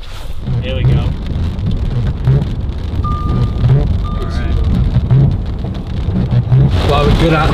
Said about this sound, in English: The heavens have opened, it's pouring down.